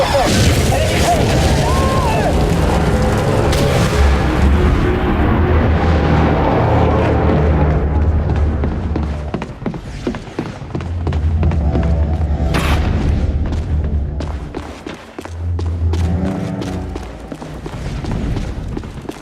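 Heavy missile impact explosions in the game The Bureau: XCOM Declassified, deep rumbling booms and crashing debris rolling on loudly for many seconds, mixed with shouting voices and sharp bursts.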